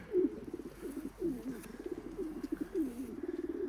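Soft, repeated cooing from a dark check pigeon hen being handled, the low throaty coos rolling in close succession for several seconds, near and moderately loud with no talking.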